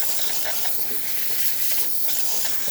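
A Breville Barista Express espresso machine's steam wand releases a steady, close, continuous hiss of steam that holds at an even level with no pauses for the whole short stretch.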